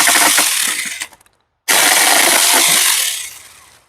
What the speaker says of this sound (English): Now this here, what I'm cutting, that's a hardwood. This is maple.